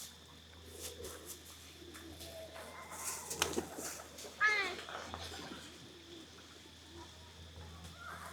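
Soft pigeon coos sound faintly amid quiet outdoor ambience at Wat Umong temple in Chiang Mai, Thailand, with a few brief bird calls and light rustles.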